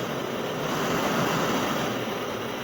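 A steady, loud Kovea Power Nano camping gas stove burner roar at medium flame, a continuous rushing hiss with no breaks and no talking.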